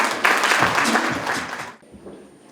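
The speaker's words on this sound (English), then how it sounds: "Ladies and gentlemen, a round of applause for our judge, Mr. Carlson Efunge." Audience applause at an awards ceremony greets the judge: a dense wash of clapping that runs loud for under two seconds, then drops off abruptly and fades away.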